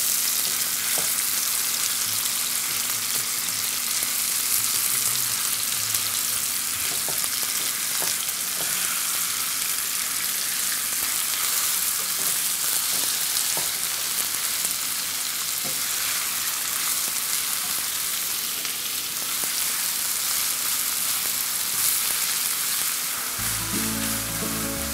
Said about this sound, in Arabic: رح أحرك اللحمة لحتى تستوي